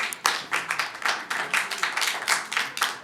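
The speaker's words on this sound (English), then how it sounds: "the applause you heard as I came up was for me" Scattered audience clapping at a county commissioners' meeting, a handful of distinct claps in an uneven rhythm, fairly close and moderately loud, with no voices.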